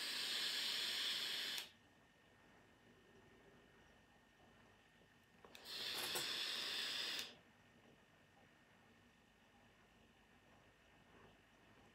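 A Lost Vape Ursa Quest pod mod kit fires at 60 watts with the airflow fully open, giving two loud, airy hisses of vapour: one at the start and a second a few seconds later, with quiet in between.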